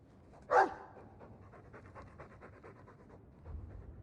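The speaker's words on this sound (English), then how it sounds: "I'm sick of what's-his-name staring and panting." A Mabari war dog from Dragon Age II pants in quick rhythmic breaths after one sharp burst at the start, fairly close and moderately loud, with no talking.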